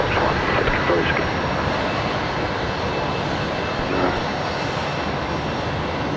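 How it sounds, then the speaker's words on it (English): A Jetstar A321neo jet airliner touching down, a steady, loud broadband roar of engine and airflow noise filling the whole stretch without letup, with faint voices mixed in. "We've got the Jetstar 321 Neo just touching down now"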